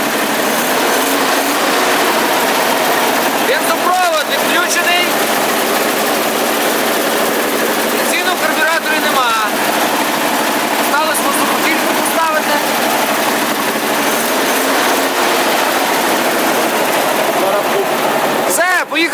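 An inline-six engine in a GAZ-51 truck runs on a wood-gas generator, a loud steady rumbling drone throughout with intermittent sharper clanks and bursts, and a person speaks over it at times.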